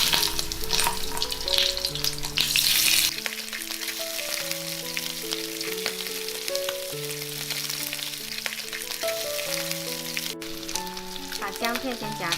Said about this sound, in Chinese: 把鱼头放进来煎。